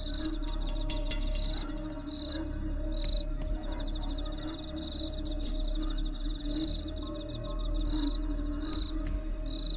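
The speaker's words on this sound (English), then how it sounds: "No, that's the sound of the crickets" Crickets chirp at night in the horror game Corpse Party Blood Drive, a steady layered trilling with repeated high pulses over a constant low ambient hum, no voices.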